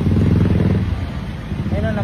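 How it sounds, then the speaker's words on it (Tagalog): A motorcycle engine failing to start, giving a rough low sputtering chug that fades out, with a voice speaking over it throughout. "ayaw umandar ng motor"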